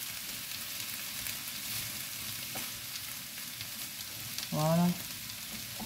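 Rice cooking in a pan gives off a soft, steady sizzle that stays faint throughout. Near the end a brief word of speech rises over it.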